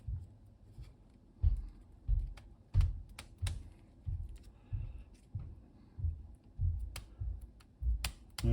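Keys on a Micron ZX Spectrum clone keyboard are pressed in slow, uneven clusters of soft clacks and thumps, close by and alone.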